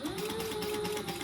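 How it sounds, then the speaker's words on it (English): Sewing machine running a seam at a 3mm stitch length on an uninterfaced fabric bag, a steady close mechanical hum with a faint whine, brief and alone. "And I am doing a 3mm stitch length"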